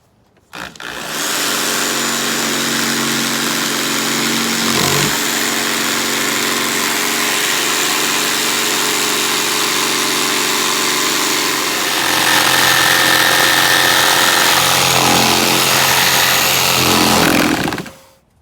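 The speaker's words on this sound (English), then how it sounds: "I will drill a couple holes so I can get the jigsaw blade inside." A loud, continuous drill and jigsaw buzz and whine through a wooden charcuterie board for most of the clip, then cut off abruptly at the end.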